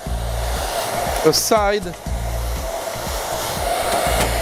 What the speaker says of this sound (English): take the hair dryer, warm up